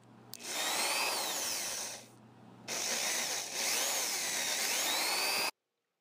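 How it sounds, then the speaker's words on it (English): Drill boring holes into a wooden dowel, heard as two loud close bursts of motor whine and bit grinding separated by a brief pause, then an abrupt stop. "Now drill the holes on the other end of the dowel."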